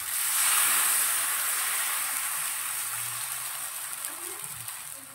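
Rava dosa batter sizzles on a hot pan, a steady broadband hiss that swells loud at the start and eases slightly over five seconds, with faint low rumbles underneath and no voice.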